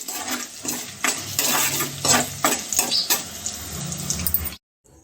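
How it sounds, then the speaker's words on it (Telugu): Loud sizzling and spattering of tempering spices dropped into hot oil, with repeated scraping stir strokes of a spoon against a pan, ending abruptly. "నేనైతే ఇలా తాలింపు పెట్టేస్తున్నా"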